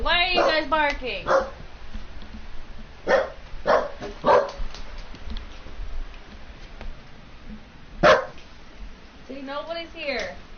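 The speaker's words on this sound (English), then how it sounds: "Why are you guys barking?" Several dogs bark in short bursts amid a stealth video game playthrough, a few sharp yips spaced across the scene with a voice talking between and over them.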